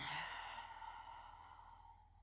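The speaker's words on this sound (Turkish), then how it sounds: "Bir derin nefes al, sakince bırak ağzından." One slow, deep breath is exhaled through the mouth during a yoga session for shoulder pain. The soft, airy rush lasts about two seconds, faint and alone, and fades gradually.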